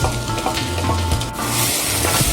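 Cooked rice is stirred and fried in a hot pan for an omelette rice dish, giving a steady loud sizzle with scraping stirring strokes and no talking.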